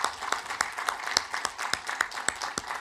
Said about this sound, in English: I actually want to give this team a round of applause for the things that they have done to make this possible